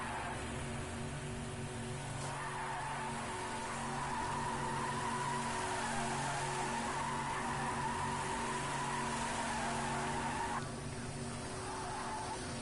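Race cars do donuts after a race, their tires squealing and skidding in a steady, sustained screech over the engine drone. The sound runs on without a break at moderate loudness.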